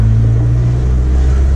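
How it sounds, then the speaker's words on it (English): A Volkswagen T4 van fitted with a bigger brake kit and rear disc conversion rolls along on a test run, a steady loud low engine drone and road rumble with no voices. "test run now, after fitting the new bigger brake kit and the rear discs conversion"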